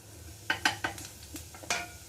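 Grated coconut roasting in a pan for a peas dal, stirred with a utensil that taps and scrapes the pan in a few distinct strokes over a faint background sizzle, close and fairly quiet.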